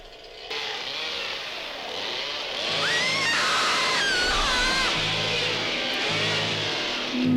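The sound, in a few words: chainsaw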